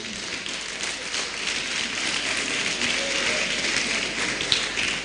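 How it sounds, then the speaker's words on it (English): An audience at a birthday lecture applauds in a steady, dense wash of clapping that runs the whole time at an even level and sounds fairly close, with no voices over it. "Those from Itinan, you want to applaud your man,"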